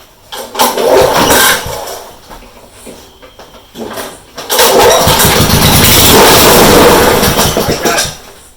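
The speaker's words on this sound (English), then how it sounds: "That engine then, with the starter put straight into the bore, fired up," A Honda HRU196 lawn mower engine, under repair with the starter fitted straight into the bore, bursts into a loud, close roar after a few sputtering attempts and keeps running steadily.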